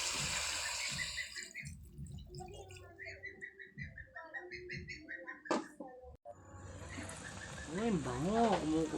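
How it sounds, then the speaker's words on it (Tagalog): Water runs and splashes into a pan nearby, with a gurgling, bubbling stream near the end; speech is heard intermittently around it. "Lalagyan natin ng tubig."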